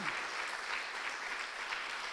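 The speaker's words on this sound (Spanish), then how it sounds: "Dele fuerte el aplauso al Señor" Congregation in a church service applauding for the Lord, a brief steady burst of many hands clapping, moderately quiet and continuous.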